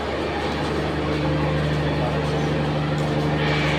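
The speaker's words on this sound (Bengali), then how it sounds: "ট্রেন।" A train stands at Feni railway station in Bangladesh, giving a steady low engine hum and a rumble over platform bustle, with voices of people nearby.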